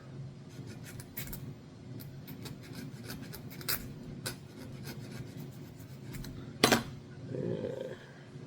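A nickel-plated brass metal part gets a scratch test, with faint, irregular scraping and scratching strokes and small clicks close up in a quiet room, plus one sharper metallic scrape near the end.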